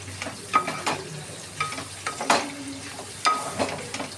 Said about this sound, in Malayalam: ശരിക്കും നമ്മൾ ഈ ചട്ടിയിലിട്ട് നല്ലോണം ഒന്ന് ഉലർത്തി എടുക്കണം.